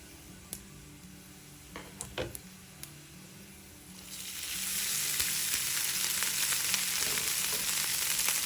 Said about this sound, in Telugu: ఇప్పుడు ఈ రైస్కు పట్టేలా కలుపుకోవాలి